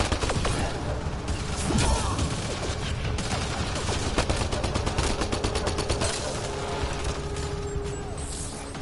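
Dense automatic gunfire rattles through a firefight in Mass Effect Andromeda, with rapid steady bursts up close and occasional crashes and whooshes, while voices talk over the shooting.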